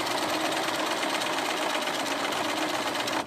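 Sewing machine stitching fabric along a curved seam at a craft show runs with a fast, steady mechanical whir and rapid needle chatter, close and continuous before stopping abruptly at the end.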